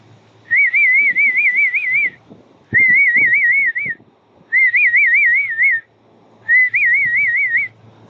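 A person whistles to call animals, four trilling, warbling calls in a row, each about a second or more long with short pauses between, clear and close against quiet background.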